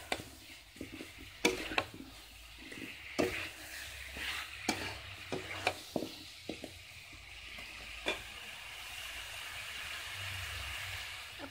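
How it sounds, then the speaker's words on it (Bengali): Spice paste fries with potatoes in a pan while a spatula stirs it, giving a steady sizzle under intermittent scrapes and knocks against the pan, close and fairly quiet. "ভালো করে আগে মশলাটা কষবো বুঝেছো আলুর সাথে"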